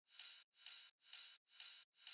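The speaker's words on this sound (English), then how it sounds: "Later on in the song, I added a ride," A ride cymbal from a tech house drum track sounds as five evenly spaced, bright washy hits, each sustaining briefly before cutting off, faint and alone.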